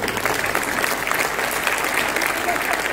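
Audience clapping at a Mumbai festival event, a steady dense wash of many hands continuing evenly for the whole stretch, with a voice faintly mixed underneath.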